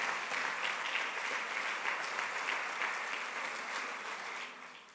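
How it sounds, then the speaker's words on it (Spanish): Church congregation applauding during a Spanish-language Sunday service, a sustained, even patter of many hands at moderate distance that fades gradually toward the end. "Mejor démosle un aplauso al Señor"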